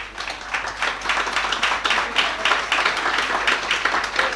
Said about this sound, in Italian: Un grande applauso all'amico di Tarquinia.